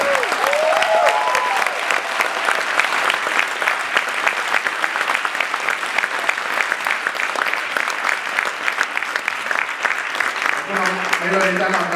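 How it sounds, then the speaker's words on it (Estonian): A concert audience gives the singers sustained applause, dense clapping running steadily for the whole stretch while someone speaks over it near the start and again at the end. "Teeme suure aplausi kõigile."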